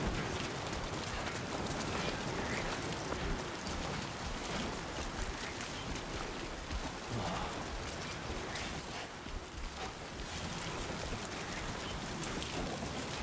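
Steady rain falls in the video game Death Stranding 2, a dense, even hiss of drops pattering on surfaces that holds unbroken and fairly loud from start to finish, with no talk over it.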